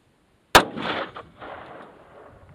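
A single loud, sharp gunshot from a single-action gun at an outdoor shooting gallery cracks close by, followed by a rolling echo that fades over about two seconds.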